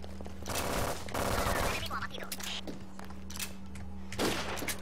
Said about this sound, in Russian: Здесь, надо мной стреляет.